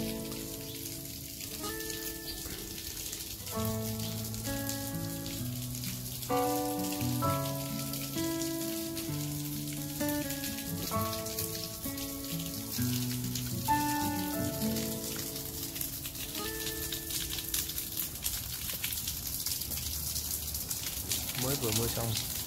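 Rain patters and drips steadily at a temple in Bac Lieu, Vietnam, just after a shower, under background music and a person talking.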